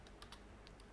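Brief burst of a few quick keystrokes on a computer keyboard while HTML text is entered, faint and close over a steady background hiss.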